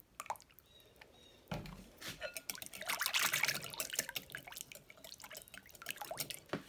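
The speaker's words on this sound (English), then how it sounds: "We could put a little more oil in there." Oil is poured into a flank steak marinade in a dish, a soft close trickle and splashing of liquid with small drips, fairly faint and unaccompanied by speech.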